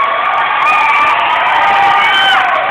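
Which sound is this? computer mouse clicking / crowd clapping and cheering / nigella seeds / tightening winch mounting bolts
crowd clapping and cheering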